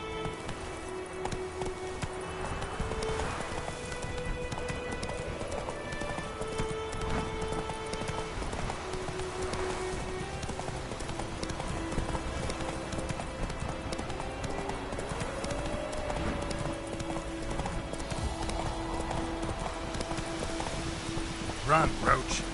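Roach, a horse in The Witcher 3, gallops with steady rhythmic hoofbeats over game music and ambient noise, running continuously at a close, even level.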